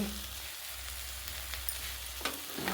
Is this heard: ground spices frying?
yes